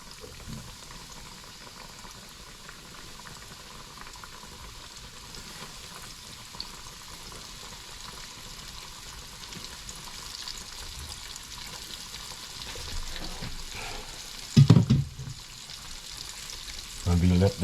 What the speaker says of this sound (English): I finished doing all frying the chicken wings